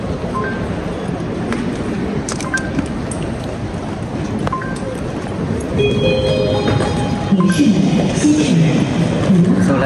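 A continuous rumbling train sound fills a station on the Laos–China route at Xishuangbanna, steady and loud, with faint tonal beeps and murmuring voices in the background.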